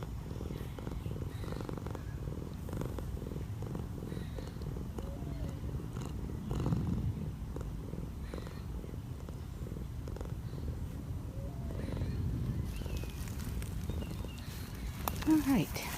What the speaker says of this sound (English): You've got the best purr.